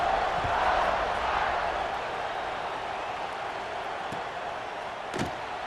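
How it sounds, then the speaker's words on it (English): A football stadium crowd at a Notre Dame versus LSU college game murmurs as a broad, distant roar that slowly settles, with a few sharp thuds late in the clip. "this crowd is buzzing after that last score"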